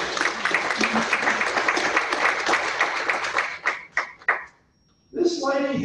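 Applause from an audience at a county board of education meeting, steady and fairly loud for several seconds before breaking off into a brief pause, then talk resumes at the end.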